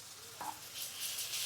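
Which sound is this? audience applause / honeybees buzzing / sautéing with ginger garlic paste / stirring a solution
sautéing with ginger garlic paste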